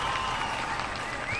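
Applause at a New Year gala concert in Batumi, a dense, continuous roar of clapping from a large hall audience, with a faint sustained tone from the stage sound drifting through it.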